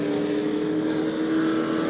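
Sportsman race car at New Smyrna Speedway with its engine revved and running, a steady, loud mechanical roar with wind buffeting the microphone and no other sounds.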